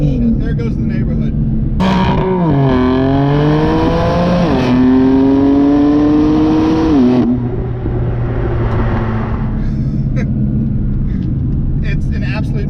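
A BMW M4 in M mode revs hard and accelerates, its engine note climbing in several rising sweeps before easing off, loud and close, with people talking over and around it.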